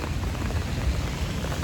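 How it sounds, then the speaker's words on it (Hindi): Heavy rain pours outside in a dense, steady hiss and patter, loud and unbroken, with no voices. "तो अब हो गई है बाहर बहुत तेज़ बारिश, ये देखो।"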